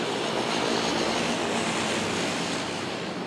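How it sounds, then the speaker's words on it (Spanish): C-130 military transport plane flying overhead in a video game, a loud, continuous broadband engine roar that holds steady throughout, heard alone without talk. "Ese avión va al aeropuerto."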